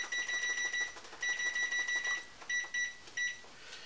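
A kitchen timer beeps in quick groups of high electronic tones, fairly faint and alone, while biscuits bake in a 400-degree oven.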